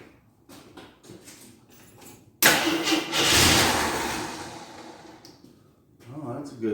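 A 1983 Scrambler motorcycle left unused for years is cranked and then fires up, its engine catching suddenly with a loud roar that settles into a rough, uneven idle before revving again.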